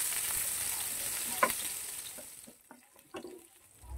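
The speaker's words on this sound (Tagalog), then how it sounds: "Gisa-gisain lang natin ito hanggang sa mag-brown." Garlic and onion sautéing in oil for sarciadong bangus, a hiss that fades partway through, with a few spatula scrapes and clinks near the end, close and moderate.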